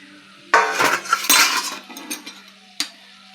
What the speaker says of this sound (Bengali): এবার ঢাকাটা খুলে দেখি কি অবস্থা